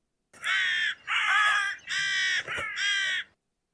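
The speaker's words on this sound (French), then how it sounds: "Après cette conversation, les corneilles reprirent leur vol." Crows give four loud, harsh caws in a row, close by, each a drawn-out rasping call with brief pauses between them.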